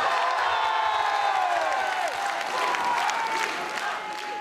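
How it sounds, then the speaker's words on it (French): Crowd at a French political rally, with sustained applause, cheering and sharp whistles throughout, dense and loud, with a few voices shouting within the noise. "sous les applaudissements, mais ça commence sous les sifflets"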